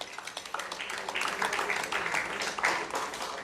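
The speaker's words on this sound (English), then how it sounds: "Let's give him a round of applause" Scattered, uneven clapping from an audience at a Nigerian private medical practitioners' award ceremony and dinner night, individual claps audible within a moderately loud round of applause that swells midway.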